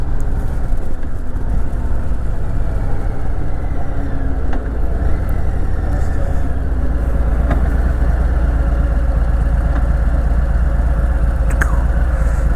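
Stock-piped Harley-Davidson Fat Boy 114, a 2023 anniversary edition, idling with a deep, steady low rumble that stays loud and close throughout, with no voices over it.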